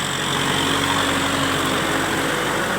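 A Kubota M6040 four-cylinder turbo tractor runs steadily at idle or low revs on a plowing job with a six-disc plow, a continuous loud engine drone with low rumble throughout and no talk.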